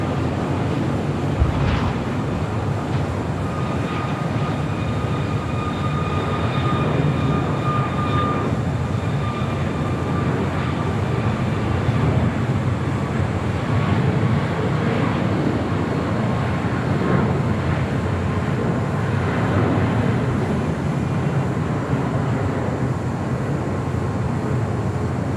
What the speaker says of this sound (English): next arrival on 25 left